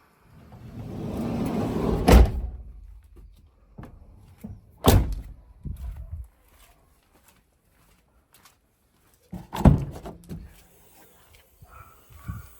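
Rear swing doors on a 2013 Renault Trafic passenger van with a 2.0 engine: a run of clunks and latch thuds, with a few sharp slams spaced several seconds apart, heard up close with quiet gaps between them.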